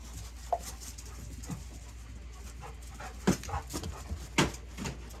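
Several dogs indoors whimper, pant and shuffle about, with soft scattered steps and a few sharper thumps close by, and no voices.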